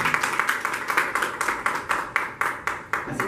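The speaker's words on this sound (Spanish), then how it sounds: "Denle un aplauso al Señor" A church congregation applauding, brisk rhythmic clapping in a steady beat of roughly three to four claps per second from a nearby crowd, sustained throughout.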